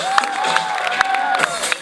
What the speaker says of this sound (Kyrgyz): Кол чабып койсоңуздар.